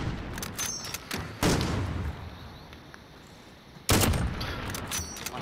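Gunfire in a Call of Duty Modern Warfare match, with sharp bursts of shots and a couple of heavier volleys over background game noise, heard close and loud with no talking.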